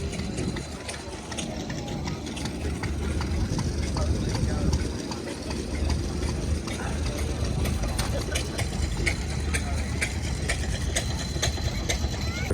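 Massey Ferguson tractor engine idling at an outdoor ploughing match and show, a steady low rumble running throughout amid crowd murmur and nearby voices.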